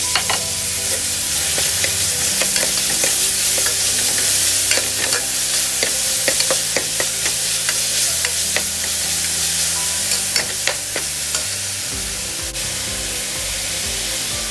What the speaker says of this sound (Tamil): வெங்காயம் வதங்கிட்டே இருக்கும்போது ஃப்ரெஷ்ஷாக அரைச்சி வச்ச இஞ்சி பூண்டு பேஸ்ட் அதில் போட்டுக்கோங்க